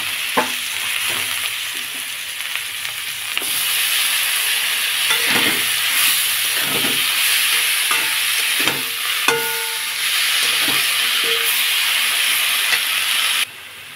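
Cut cabbage and potatoes frying in fish oil with ginger, turmeric and salt in a pan, a loud steady sizzle and hiss with scattered spatula scrapes and knocks, close, ending abruptly.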